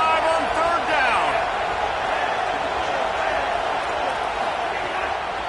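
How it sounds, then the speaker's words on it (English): A packed Ohio State Buckeyes football stadium crowd roars steadily on third down, a dense, loud wash of cheering with a play-by-play announcer talking over it. "The Buckeye crowd alive on 3rd down"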